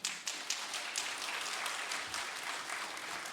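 Church congregation applauding to welcome a guest preacher at a Sunday worship service, a dense, steady wash of many clapping hands filling the room throughout.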